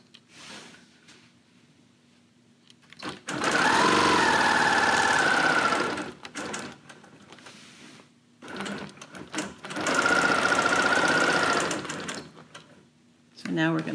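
A Bernina Q24 longarm quilting machine stitches ruler work in two loud, steady runs of rapid whirring with pauses between, and a person speaks during the quiet gaps.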